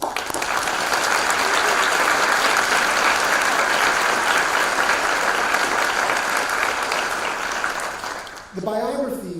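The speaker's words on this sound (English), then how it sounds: "One more round of applause." Sustained, loud applause from a large audience at a college honors convocation ceremony, steady clapping throughout that fades near the end as a voice begins speaking.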